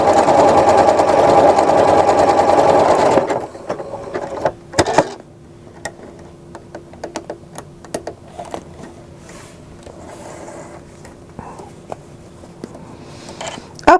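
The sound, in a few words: sewing machine stitching decorative star pattern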